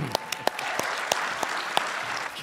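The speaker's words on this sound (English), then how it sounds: "Let's give a round of applause for Matt Rory." Audience applause at a PAX East 2024 live comedy podcast taping, a steady crowd clapping wash with sharp individual claps popping out near and loud throughout.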